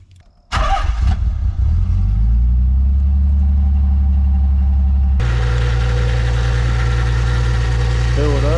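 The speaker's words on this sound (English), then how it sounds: "Let's start this bad boy up and actually start bleeding fluids and whatnot." A Nissan 300ZX slicktop engine cranks and catches, then settles into a loud, steady low idle that shifts slightly in tone after a few seconds, with close-up mechanical hum.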